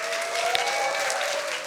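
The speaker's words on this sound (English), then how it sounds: "Give him a warm round of applause." A crowd at a Science Slam 2024 evening event welcomes the next speaker with a warm round of applause: loud, even, many-handed clapping that stays steady for under two seconds.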